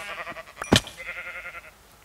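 Minecraft sheep giving a single loud bleat, close up, with a few soft game sounds before and after and no talking.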